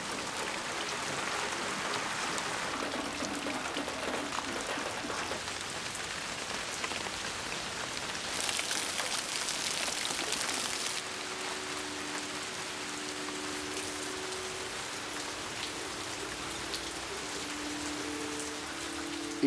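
Steady rain pattering on a surface, a dense hiss that swells briefly heavier midway before easing back to a constant fall.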